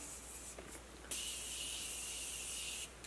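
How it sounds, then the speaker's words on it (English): A short fizzy hiss of a makeup setting spray misted over foundation, close up, lasting nearly two seconds after a couple of faint clicks. "I forgot to spray, so I'm gonna do that right now."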